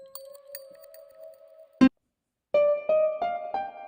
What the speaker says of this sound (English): I want a little pluck sound.